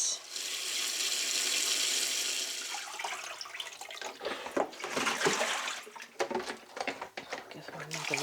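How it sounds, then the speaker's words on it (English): Vegetables drained and rinsed under a running tap: a steady hiss of flowing water at first, then uneven splashing and sloshing as they are washed, with a voice talking over it. "let me just drain that and then give them a good rinse"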